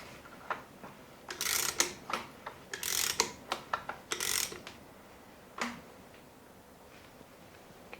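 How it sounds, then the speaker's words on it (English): Small hand-tool ratchet clicks tightening screws on a BMW S85 V10 engine's vanos unit: short quiet bursts of rapid clicking with a few isolated taps and clunks, close by in a still workshop. "fit the other screws, and then tighten them up"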